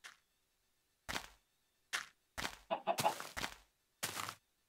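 A Minecraft chicken clucking, several short separate clucks spaced over a few seconds, one brief flurry in the middle, clear and close against silence.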